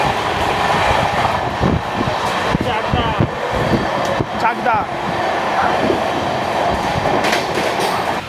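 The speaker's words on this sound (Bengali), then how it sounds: "এই ট্রেনটিকে একদম থ্রু বেরিয়ে যাচ্ছে কল্যাণী স্টেশনের উপর দিয়ে।" An express train from Kolkata thunders nonstop through a station, a loud continuous rumble with rhythmic wheel clatter and some metallic squeal, while a voice speaks over it.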